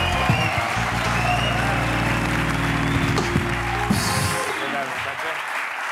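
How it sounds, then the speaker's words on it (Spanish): A studio audience on a Spanish late-night talk show claps steadily and loudly throughout, with some cheering and a low musical bed underneath. "quiero pedir un aplauso para Jorge Ponce"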